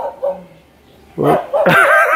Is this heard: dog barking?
yes